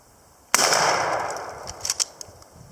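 A turkey shotgun firing a Winchester Universal load at 30 yards gives one sharp, loud blast with a fading tail, followed by a few faint clicks and knocks.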